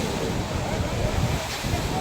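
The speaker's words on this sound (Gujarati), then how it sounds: "દરિયામાં 8 થી 10 ફૂટ ઊંચા મોજા ઉછળ્યા." Stormy sea waves at Gomti Ghat in Dwarka, rising eight to ten feet high, give a continuous loud roar of surf and wind, broad and steady throughout with no clear individual crash.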